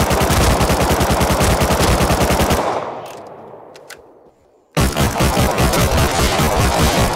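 Video game gunfire, a loud, rapid automatic burst that runs for a couple of seconds and dies away into a decaying tail and near silence, then another dense burst cuts in abruptly.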